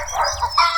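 A cartoon hen clucks in an animated Hindi animal story as she runs to escape a hyena, giving a quick, close burst of a few high, squawky clucks under a second long.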